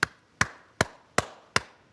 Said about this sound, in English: groups identify themselves by making specific patterns of clicks called codas